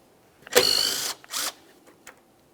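A hand ratchet loosens 10mm bolts on the grille area of a 2006-2012 Ford Fusion, making two quick clicking bursts and then a faint tick in a quiet garage.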